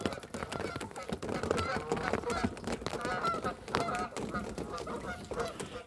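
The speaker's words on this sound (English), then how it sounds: "Have to talk over the geese." A flock of geese honks continuously and loudly nearby on the St. Croix River, a dense overlapping chorus that fills the whole stretch.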